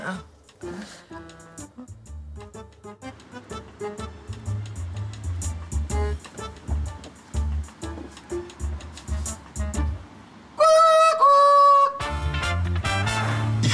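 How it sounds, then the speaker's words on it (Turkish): A villa doorbell made to sound like a rooster crowing rings out as a loud, brief tonal burst with rising and falling pitch, breaking through background music. "Arka villanın zil sesi efendim."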